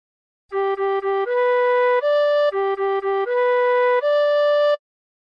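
A tin whistle plays a phrase of La Cucaracha: three quick repeated notes, then longer held notes stepping upward, and the same pattern again, ending on a sustained high note. The playing is clear and solo, with no voices.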